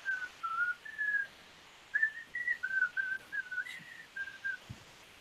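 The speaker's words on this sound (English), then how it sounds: "Are you doing the whistle from the animated Robin Hood?" A person whistles a lilting melody modeled on the tune from the animated Robin Hood, a run of clear sustained notes and short phrases with brief pauses, close and alone with no talking.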